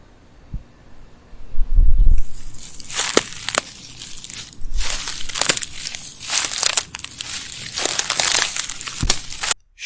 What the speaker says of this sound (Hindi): शाखें टूट रही है और पत्तियां सरसरा रही है।